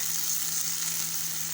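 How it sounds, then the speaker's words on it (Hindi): Chicken sizzling in a pan with vinegar, soy sauce, pasta sauce and hot sauce, a loud, steady frying hiss with a constant hum underneath, close and uninterrupted, no talking. "अब हम अच्छे से चिकन को इन सॉसेस में भून लेते हैं।"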